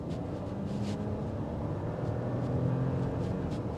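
A 2026 Audi A6 Allroad with a 3.0-liter six-cylinder, accelerating: a steady low engine drone with road noise that swells slightly, no talking.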